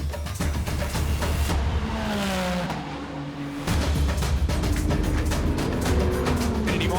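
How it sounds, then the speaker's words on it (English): A Ferrari Challenge race car screams past at speed in fifth gear near full throttle through a left-hand corner, its loud engine note rising and falling with a racing roar that continues throughout. "In these cars, it's 5th gear, almost full noise, 240 k's an hour coming through this next left-hander."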